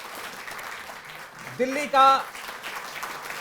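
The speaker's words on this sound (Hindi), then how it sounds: "जोरदार तालियां बजती रहें।" Audience clapping at a Delhi government award ceremony honouring Tokyo Olympic athletes sits as a soft, diffuse background wash while a presenter speaks briefly into a microphone over it.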